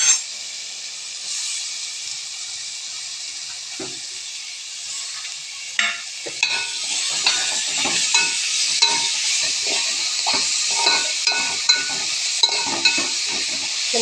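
Mustard seeds sizzle hard in hot oil for a tempering, a loud, constant hiss broken by scattered pops and the scrape of stirring in the pan, with no voices.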